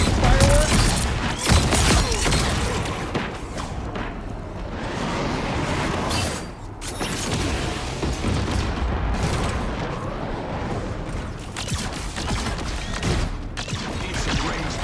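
Iron Man's gunfire and explosions in the Marvel Rivals video game: dense bursts of rapid firing and booming blasts, loud and continuous throughout, with mechanical effects layered over the din.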